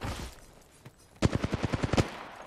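Rapid gunfire rings out in a video game, a quick burst of about eight sharp shots in close succession following a quieter stretch.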